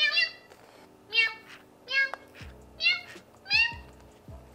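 Electronic toy cat on a classroom learning device meows five times in a row when tapped, each meow bright and clear, while soft voices murmur faintly underneath.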